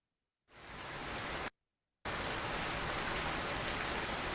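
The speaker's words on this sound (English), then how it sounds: "I can hear it's probably going to rain today." Steady designed rain soundscape for a product app: a dense hiss of rainfall on surfaces that starts, cuts out briefly for about half a second, then returns loud and continuous.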